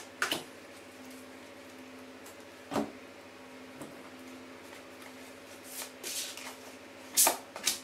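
Oracle cards dealt into piles on a table: a few sharp, isolated slaps and flicks spaced irregularly over a quiet, low hum, with a cluster of card snaps near the end.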